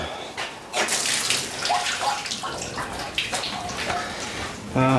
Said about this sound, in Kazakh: Бул жакта да крандар иштейт, бардыгы.